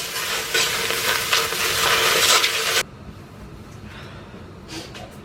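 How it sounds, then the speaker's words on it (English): Tomato and lentil sauce for Ethiopian misir alicha sizzles in a pan as a spoon stirs and scrapes close up, loud for a few seconds before dropping to a quieter simmer with faint scrapes. "Keep stirring because it's gonna want to like start sticking to the pan"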